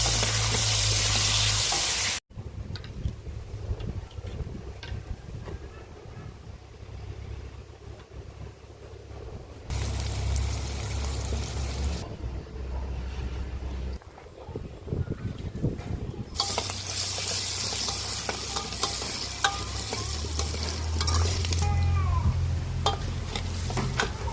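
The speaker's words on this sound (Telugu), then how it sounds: "తర్వాత ఉల్లిపాయ కూడా వేసేసుకొని బాగా ఫ్రై చేసేసుకోండి" Onions and green chilies frying in a pan for a small-onion chicken curry, with a steady sizzle under stirring and utensil scrapes, the sizzle swelling and easing across the clip, with no talking.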